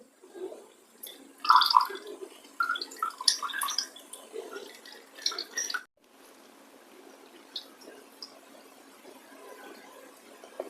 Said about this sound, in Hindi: छेने से सभी पानी को इस तरह से निचोड़ लेते हैं